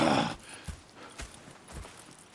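Horse hooves clip-clop softly in the video game Red Dead Redemption 2, several quiet, evenly spaced thuds after a brief louder rustle at the start.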